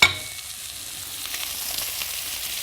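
Portavogie clams fry in butter in a pan with a continuous, fairly loud hiss of sizzling fat, flecked with faint crackles throughout and opened by a brief knock, with no speech.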